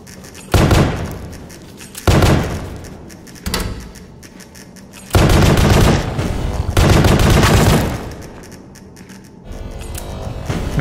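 Rapid-firing gun in the Pony Factory video game, heard as several loud sustained bursts of fast shots separated by short pauses, close and harsh, with quieter stretches in between.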